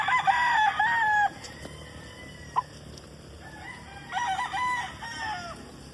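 A white Kelso gamefowl rooster crows loudly and close by, with one long crow at the start and another starting near the end, with soft clucks and a sharp click between them.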